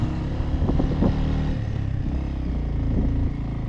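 A heavily loaded motorcycle labours slowly up a very steep hill road in first gear on a solo trip in West Sikkim, its engine a steady low throbbing drone with slight surges, close and continuous throughout.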